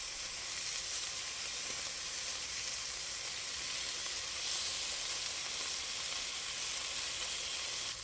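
Lamb pieces sear in a hot pan for Irish stew, giving a steady, even sizzle and hiss that runs unbroken throughout with no talking.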